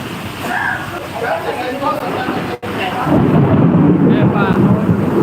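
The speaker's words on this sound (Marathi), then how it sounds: "आता आपण सध्या या ठिकाणी जोरदार पाऊस चालू आहे" Loud, steady roar of heavy unseasonal rain with deep thunder rumbling, growing fuller after a brief break; a voice talks faintly underneath. In Ambad town.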